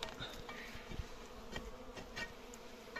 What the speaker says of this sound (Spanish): Y aquí están las abejas.